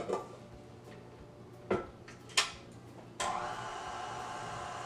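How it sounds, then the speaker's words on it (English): A KitchenAid stand mixer working dry ingredients, including salt, for cinnamon roll bites: a few clanks and knocks, then the motor starts and keeps up a steady, even whir close by with no talk. "Now we're going to mix this under the KitchenAid mixer for about 2 minutes to get this mixed up together"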